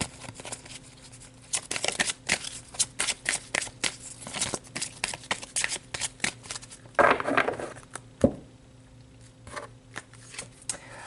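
Tarot cards are shuffled by hand up close, with a run of quick papery riffles and flicks in uneven bursts and a brief louder slide midway, no voice over them.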